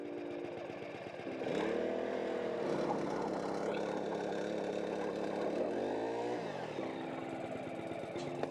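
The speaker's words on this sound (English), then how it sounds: "We're gonna drill 3 holes." A gas-powered ice auger bores holes through frozen lake ice while ice fishing for walleye, its small engine droning steadily and loudly near by and rising in pitch as it bites in and then eases off.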